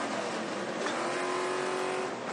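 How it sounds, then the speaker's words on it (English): Stadium Super Trucks with big V8 engines race wide open at Perth, a dense, loud, continuous engine roar with a steady sustained whine rising through the pack. "Just listen to those trucks eating those big V8 motors just wide open."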